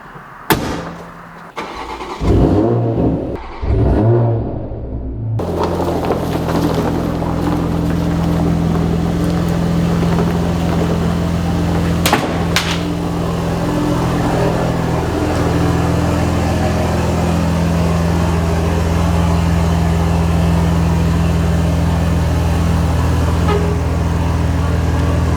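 A 2020 Toyota Supra engine cranks and starts, then runs with a steady, loud, close drone for about twenty seconds as the car is driven into a shop, with no voices.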